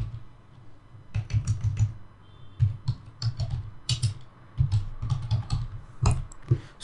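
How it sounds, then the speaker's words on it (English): Keys clatter in quick irregular bursts as a command is typed on a computer keyboard, ending with a firmer press of the Enter key; close and clear with no voices. "again type this command gp update slash force and then hit enter"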